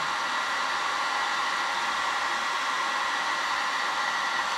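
A lighter flame heats solder on a repaired connector wire, giving a steady, close, even hiss that runs without a break from start to finish.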